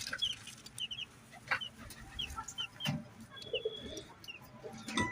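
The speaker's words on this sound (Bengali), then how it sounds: "কাদাকনাথ মুরগির বাচ্চা" Young Kadaknath chicken chicks peeping and clucking in a coop with pigeons nearby, scattered soft calls and short chirps at moderate distance, no voices.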